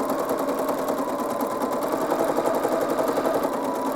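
A sewing machine runs steadily at close range, laying down a dense zigzag satin stitch in decorative thread for quilting, with an even, fast mechanical whir throughout and no talking.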